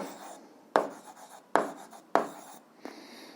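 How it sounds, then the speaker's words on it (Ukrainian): Pen strokes on notebook paper as an algebra solution is written out, four distinct scratchy bursts with short pauses between, close and clear with no talking. "Записуємо отже."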